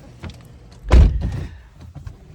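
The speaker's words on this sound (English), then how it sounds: "let me close my door" A car door on a Scion FR-S shuts with one solid thud, close and loud inside the cabin, followed by a short settling rumble and quiet interior noise.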